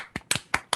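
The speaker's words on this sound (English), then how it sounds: "A round of applause for Alex being upside down on his camera feed" A few scattered hand claps, about four sharp separate claps in under a second, sounding thin and close as if picked up through a laptop microphone on a video call.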